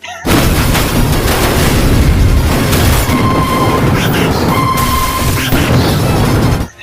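Film explosions from the Tamil movie Annaatthe as trucks blow up one after another: loud, continuous blasts and heavy rumbling booms pile up over several seconds, with crashing debris and a dense roar that barely lets up.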